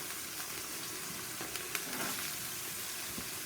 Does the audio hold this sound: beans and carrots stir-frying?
yes